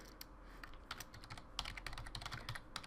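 Password being typed on a computer keyboard, a steady run of quick, crisp key clicks with a few heavier strikes, close and alone with no talk.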